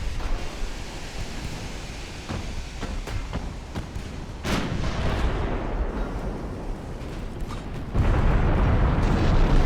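Naval artillery fire and shell hits in Ultimate Admiral Dreadnoughts, an 1895 Russia-versus-Britain battle, roll as a continuous dense rumble with scattered booming impacts and a heavier surge near the end.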